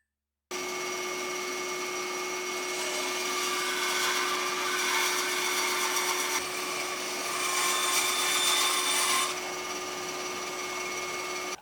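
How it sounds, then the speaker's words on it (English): A bandsaw runs steadily while cutting a wooden longboard shape. It keeps a constant motor hum, and the blade rasps louder through the wood in two stretches. The sound is close and continuous, with no talking. "Then I can get that cut out on the bandsaw."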